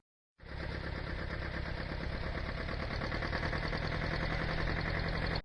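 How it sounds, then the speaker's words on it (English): A tractor engine runs steadily nearby, a dense, even mechanical chugging that starts abruptly and holds at constant loudness until it cuts off. "Tractor."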